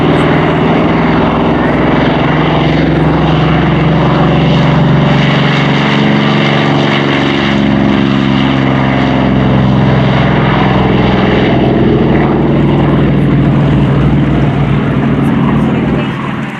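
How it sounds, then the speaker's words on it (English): An F4U Corsair propeller plane's heavy engine drones loudly at an airshow, swelling and shifting in pitch as it passes close by, a continuous roar from start to finish. "Corsair now taking flight."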